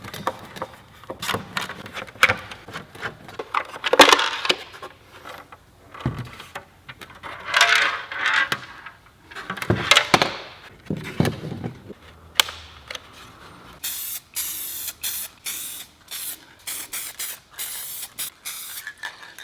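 SEM Color Coat satin black rattle can sprayed onto headlight housings in repeated hissing bursts of varying length, close and fairly loud, with short pauses between passes and a run of rapid short spurts near the end.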